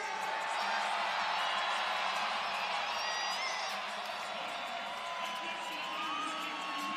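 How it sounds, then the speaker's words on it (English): A college wrestling crowd at the Oklahoma State vs Utah Valley dual cheers for wrestler Ben Kerr, a steady roar with whistles, and a commentator talks over it. "He's piping the crowd."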